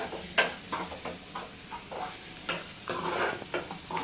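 Chicken dropping into a sizzling pan for home-cooked biryani, a soft steady sizzle with irregular scraping and stirring bursts nearby, fairly quiet and without speech.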